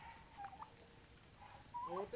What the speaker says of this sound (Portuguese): tá aí o peru que nós vamos matar. Ele tá vivo, nós conseguimos pegar ele